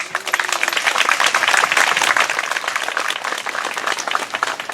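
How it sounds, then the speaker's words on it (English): An audience at a monument unveiling ceremony at Fort Defiance gives a dense, sustained round of applause, close and loud, easing slightly toward the end. "Let's give him a round of applause."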